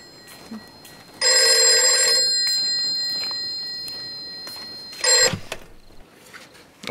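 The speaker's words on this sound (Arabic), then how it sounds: "هذا تليفون إلي." A telephone bell rings in a home setting in an Iraqi drama series, one long sustained ring lasting about three seconds, then a shorter second ring after a pause, loud and close with no talk over it.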